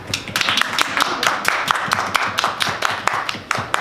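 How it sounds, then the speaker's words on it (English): Several people clap with quick, uneven hand strikes throughout, a steady patter of sharp taps at close range, with no talk over it. "I'm going to clap for you"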